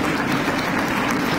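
At a college convocation in India, the audience stands to thank the chief guest with loud, sustained, dense applause from a large crowd.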